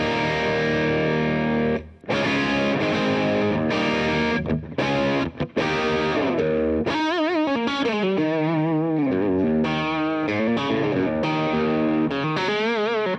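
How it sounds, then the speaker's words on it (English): Electric guitar on the bridge pickup through a modded Boss DS-1 Tri Roxx Plus distortion pedal, playing loud, saturated chords and riffs with brief pauses, then bending sustained lead lines, alone with no voices. "let's go ahead and engage the pedal and listen to the sound on the bridge pickup"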